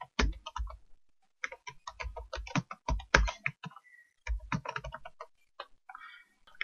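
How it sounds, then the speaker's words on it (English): Bursts of fast, close keystrokes on a computer keyboard as an email address is typed at a login screen, with short pauses between runs and no talking. "Here you can type your email ID."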